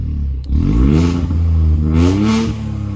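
A turbocharged car engine revs with its exhaust valve opened, a loud, throaty rising and falling drone held steady across the stretch with two stronger pushes, close by and without talk.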